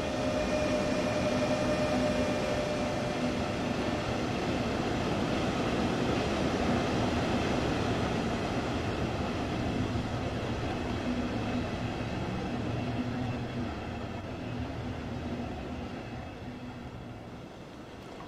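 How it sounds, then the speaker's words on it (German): A DB class 146 electric locomotive in Bahnland Bayern livery arriving on an S-Bahn line in Train Sim World 2, a steady loud rail rumble with faint tonal whine, fading slightly at the end, no voices. "Und da kommt eine 146 im Bahnland Bayern Design."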